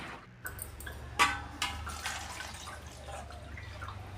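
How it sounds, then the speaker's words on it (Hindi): Water sloshes and drips as onions are rinsed by hand, with a few sharper splashes and clatters over a low steady hum. "इन्हें और साफ़ पानी में हम धो लेंगे"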